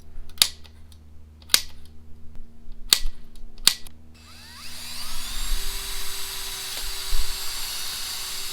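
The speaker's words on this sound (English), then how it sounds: "Drill a small pilot hole, and we'll drill our 1/4 inch hole" A power drill bores a quarter-inch hole through a metal canopy frame, whining at high pitch for several seconds after four sharp clicks at the start.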